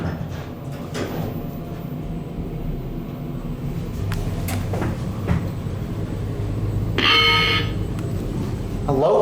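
Schindler 3300 MRL traction elevator doors closing, a low rumbling slide with scattered clunks and knocks, ending in a brief bright rattling tone near the close, heard inside the cab with some background hum.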